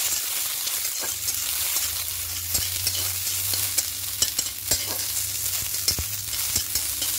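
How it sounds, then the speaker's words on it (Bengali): Soaked cashews and raisins fry in ghee in a kadai, giving a continuous crackling sizzle. Frequent scraping clicks come from a spoon stirring them, alone and up close. "হালকা নাড়াচাড়া করে একটু ভেজে দেব।"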